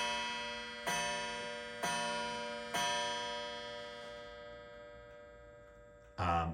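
A 1976 Bicentennial wind-up clock strikes three evenly spaced, ringing chimes that each decay slowly and overlap, followed by a sharp knock near the end.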